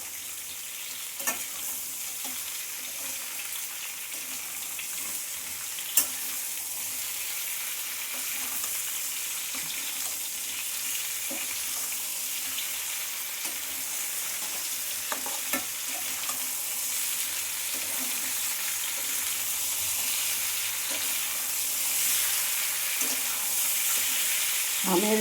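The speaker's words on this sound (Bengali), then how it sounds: "আমগুলোকে আমি ভালো করে নেড়ে চেড়ে বেশ করে একটু ভাজা ভাজা করে শুকিয়ে নেব" Mango pieces sizzle and fry steadily in a pan, with occasional scraping knocks of stirring over a constant crackle, close and continuous with no talk.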